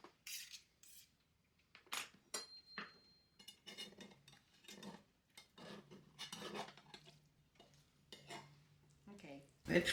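Cutlery scraping and clinking against a dish while a freshly baked turkey pot pie is sliced and served at home, with intermittent taps and scrapes, a brief soft voice and a sharp clatter near the end.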